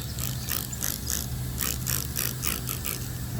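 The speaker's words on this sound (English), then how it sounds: "Got my little sprayer. Needs to get dialed in here." A small trigger spray bottle is twisted and adjusted before a car wash, giving a steady run of close ratcheting clicks over a constant low hum.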